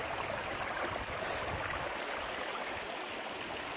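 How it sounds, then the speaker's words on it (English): Justice Creek on the Appalachian Trail flows steadily, a close, continuous broadband rush of running water without pause or voices. "this is Justice Creek."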